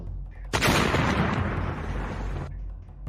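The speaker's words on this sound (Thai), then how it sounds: "แล้วก็มีเสียงระเบิดลูกที่สอง" A sudden, loud explosion bursts in and roars with a sustained rumbling blast for about two seconds before cutting off, leaving a low hum.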